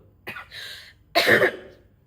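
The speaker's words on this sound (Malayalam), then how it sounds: "ഇച്ചിരി ചുമയുടെ അസ്കതയുണ്ട്" Two distinct coughs from one person, close and fairly loud: a short first cough, then a longer, harsher one after a brief pause, with no talking.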